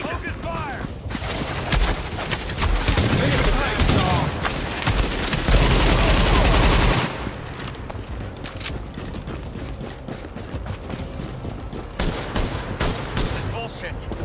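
Heavy gunfire from the video game Tom Clancy's The Division, a loud sustained fusillade of overlapping shots in a firefight that peaks in a dense burst before easing to scattered, steadier shooting.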